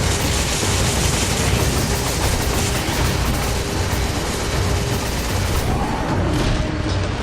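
Gunfire in the video game Resident Evil 5, a dense, continuous barrage of booming shots and explosive rumble at high volume throughout, with no clear gaps between blasts.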